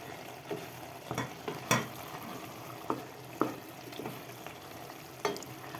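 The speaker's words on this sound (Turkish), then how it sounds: "Birazcık karıştırıyorum." Menemen sizzles quietly in a pan while a utensil stirs it, with soft scraping taps and clicks at irregular intervals over a faint bubbling hiss.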